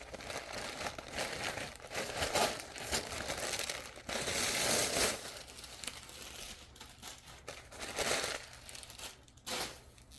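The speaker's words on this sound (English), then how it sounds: "So let's take off all this paper and stuff so we can get a good" Paper packing being pulled out of a new Coach handbag during an unboxing, heard as a steady run of close, soft crinkling and rustling with louder crumpling bursts.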